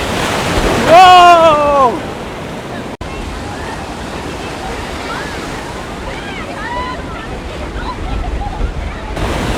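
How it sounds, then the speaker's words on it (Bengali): Sea waves breaking on Puri beach, a continuous roaring surf with wind buffeting the microphone, while gull-like whistles and distant voices rise briefly above it near the start. "পুরীর এই সমুদ্র সৈকত আর এর ঢেউ দেখুন একবারে টেনে নিয়ে চলে যাচ্ছে"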